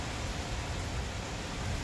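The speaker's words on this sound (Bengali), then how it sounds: "বেশ ভালো বৃষ্টির জল আসছে।" Heavy storm rain pours down, a dense, constant hiss that fills the whole moment without any break or voice.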